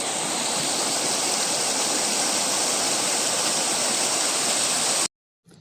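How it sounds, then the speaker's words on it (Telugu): A waterfall roars with a dense, unbroken rush of falling water, loud and close, holding steady for about five seconds before cutting off abruptly. "ఇప్పుడు మనం చూస్తున్న నీరైతే వాటర్ ఫాల్ పై నుంచి వెళ్తున్నాయని చెప్పవచ్చు."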